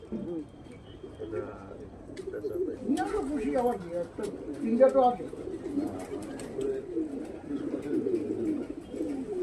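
Pigeons coo in low, throaty murmurs throughout at a pigeon seller's, mixed with people talking nearby in a busy space.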